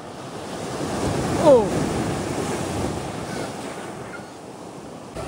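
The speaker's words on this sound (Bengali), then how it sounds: "ওটা হচ্ছে ওল্ড দীঘার সি বিচটা" Sea waves wash onto the beach at Old Digha at night in a broad, rolling surf roar with wind buffeting the microphone, one wave swelling early and then easing, with no talk.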